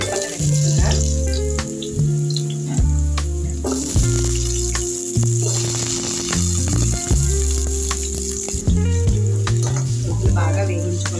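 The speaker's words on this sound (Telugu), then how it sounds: "నూనె బాగా వేడయ్యాక కట్ చేసి పెట్టుకున్న దుంపలు వేసుకున్నా." Cut potatoes fry in about three spoons of hot oil with a continuous hissing sizzle and light stirring, mixed under loud, steady background music.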